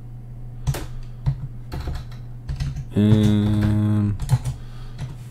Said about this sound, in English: now we can type out our hashcat command